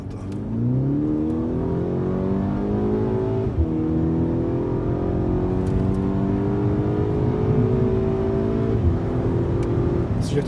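A VW Golf VI 2.0 GTI engine revs hard and holds high revs with rising and falling harmonic sweeps, loud and close, with a brief dip near the middle and another late before climbing again.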